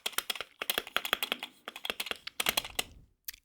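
Typing on a Wooting 60HE mechanical keyboard: rapid, close, crisp keystrokes in uneven bursts with short pauses, clear and alone with no talking.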